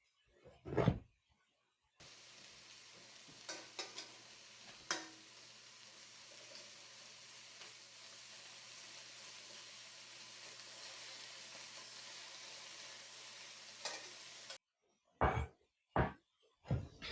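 Braciole beef rolls browning in a pan, a soft continuous sizzle with a few clicks and knocks, framed by sharp kitchen clatter before and after.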